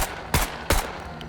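Two sharp, loud single gunshots from a weapon set to single-fire mode in the video game SCUM, spaced about a third of a second apart, each with a short decaying tail and no talking.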